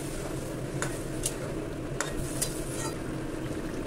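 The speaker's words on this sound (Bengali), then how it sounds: "এর মধ্যে এখন আমি গরম জল ঢেলে দেবো।" Hot water poured into spiced masala frying in a pan for a stingray curry, giving a steady close sizzle with a few sharp clinks and stirring scrapes over it.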